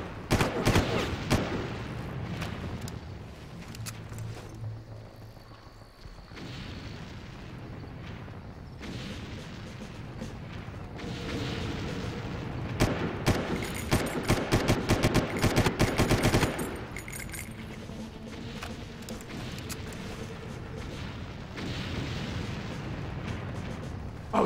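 Heavy gunfire from the video game Far Cry, with sustained machine-gun bursts and booming blasts that rise and fall across the whole stretch, loudest in dense volleys near the middle and end.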